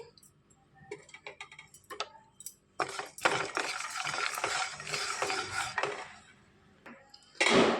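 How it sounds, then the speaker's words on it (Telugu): Sesame and cumin seeds dry-roasting in a pan for a brinjal fry, heard as clinking, scraping stirring and light rattling, with a dense busy stretch in the middle and sharper ticks at the start, close and fairly loud, no talking. "ఒక టేబుల్ స్పూన్ జీలకర్ర వేసి వేయించుకోవాలి"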